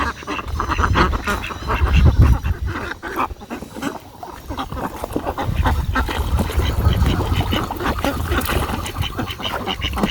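Many village ducks quack at once while moving in a line, a busy chorus of overlapping honks and quacks, close and steady throughout.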